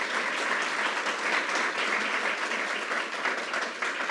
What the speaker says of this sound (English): let's give a round of applause to Harvey Stanger for his leadership.